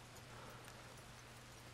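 Horse hooves clip-clop steadily and evenly in Red Dead Redemption 2, a close, continuous trot with no voices over it.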